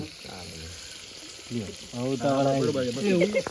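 Tempering for khaman sizzles in hot oil at an outdoor village cooking session, a soft steady hiss that continues under nearby voices talking.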